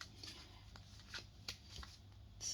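Tarot cards are shuffled and drawn, a faint, close run of soft riffling and flicking card sounds in quiet surroundings.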